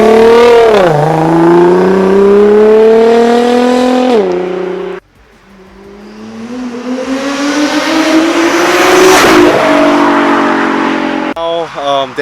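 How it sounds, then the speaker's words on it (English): A Nissan GT-R screams past in fast flybys, its engine climbing in pitch under hard acceleration, fading away, then returning for another loud rising pass. "He's doing pulls on the GTR, and holy shit, those flybys were fast."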